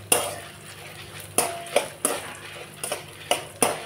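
Dry red chillies frying with coriander seeds and cumin in a pan, heard as sharp metallic clinks of a spoon against the pan, about eight taps at irregular spacing over a faint background, no talk.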